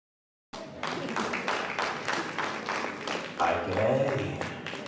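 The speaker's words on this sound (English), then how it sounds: "A round of applause" Applause breaks out after a moment of silence, steady clapping from a small crowd that swells slightly toward the end.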